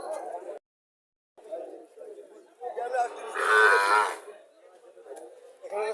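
A small Sahiwal breed calf gives one drawn-out, fairly loud moo at the Chandimura cattle market in Comilla, amid people talking nearby.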